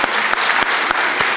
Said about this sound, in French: qu'on t'applaudisse encore une fois avant de passer aux questions